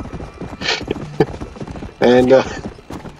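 Horse hooves clip-clopping on the first horse ridden in Red Dead Redemption: Undead Nightmare, an irregular patter of hoofbeats with a brief loud neigh-like burst partway through, while someone talks over it.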